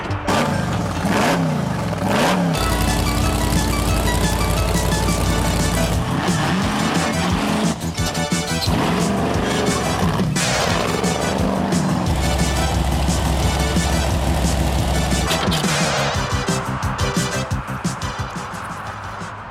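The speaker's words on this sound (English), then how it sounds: "This is my truck, Big Dummy 3 monster truck." A 14,000-pound Big Dummy 3 monster truck drives with a loud, continuous engine roar, revving and surging throughout with bursts of tire skid, close and steady over the whole stretch.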